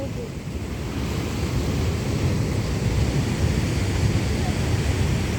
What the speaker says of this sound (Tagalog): Kahit ganyan kalakas yung alon, ano?